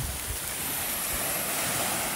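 Ocean surf at a beach on a small island, a continuous broad wash of waves mixed with wind noise buffeting the microphone, steady and fairly loud.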